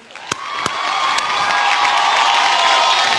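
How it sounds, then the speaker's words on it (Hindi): A crowd at a Mumbai film awards show in a studio bursts into cheering and whooping after a few sharp claps, the roar swelling and holding loud and steady. "जोरदार तालियां।"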